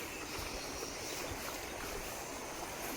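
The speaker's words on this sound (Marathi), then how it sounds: "असं ही खळखळतंय पाणी खळखळून वाहत आहे" Continuous rushing and gurgling of water flowing in a stream, steady and fairly close, with no voices.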